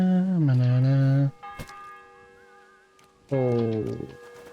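A church bell rings in Kingdom Come Deliverance 2, with a few struck tones and a lingering hum in a short gap between voiced sounds. People talk before and after it.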